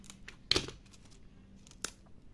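Scissors snip through a sticky covering for a small model drum: a couple of quiet, crisp cuts with faint crinkling between them, close by and without speech.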